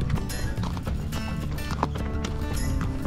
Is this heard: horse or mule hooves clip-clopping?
yes